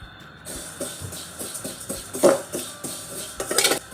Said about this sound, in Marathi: इथे कढई चांगली तापलेली आहे यामध्ये आता आपण एक कप रोस्टेड वर्मिसिली म्हणजेच दोनशे ग्रॅम आपण ही शेवई घालणार आहोत